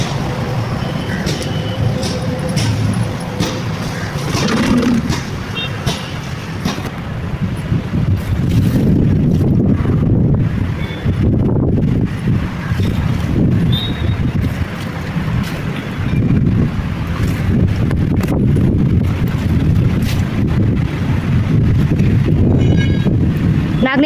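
Strong, hot wind buffets the microphone outdoors, producing a continuous low roaring rumble that lasts the whole clip with no speech.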